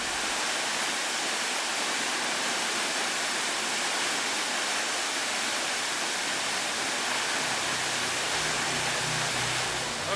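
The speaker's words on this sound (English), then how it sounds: "this is the waterfall" Steady, dense roar of a large waterfall in Greenland, a constant broadband rush that barely changes over the whole stretch.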